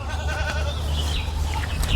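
A goat at a rural village goat sale bleats close by, mixed into steady, noisy background hum and scattered bustle, with no clear speech.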